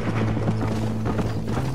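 Horse hooves clop steadily in the Red Dead Redemption video game on Xbox 360, a quick even rhythm under a low steady hum, close and moderately loud.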